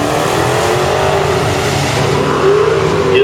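A Dodge Challenger drag car roars loudly at a drag strip, its engine note climbing steadily as it accelerates hard, a continuous close, powerful blast for a few seconds.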